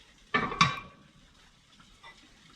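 Heavy cast waffle iron clanks twice onto a hot wood cook stove with the burner lid removed, two sharp metallic knocks close together followed by faint rattles and quiet crackle.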